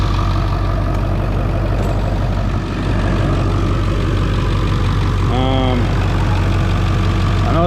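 A diesel engine with glow plugs, recently revived, idles steadily with a low, continuous rumble close by; a few brief voices come through.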